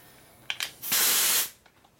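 Compressed air blasts from a nozzle during a Harley Shovelhead big-bore motor build, a loud half-second hiss preceded by two short spurts and followed by faint clicks, close and with no talking.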